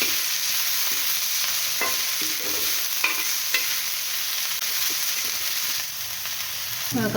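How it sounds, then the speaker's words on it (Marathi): Chopped coriander leaves fry in oil in a pan for a tawa egg bhurji, a loud continuous sizzle with light, scattered stirring scrapes close by and no talking. "यह मैं कोथिंबीर टाकते हैं पण परतून घेते कोथिंबीर छान"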